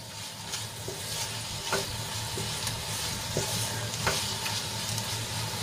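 Okra cooks in a pan with a peanut and sesame masala, a steady loud sizzle running throughout while a spatula stirs, its strokes landing as faint periodic scrapes and taps.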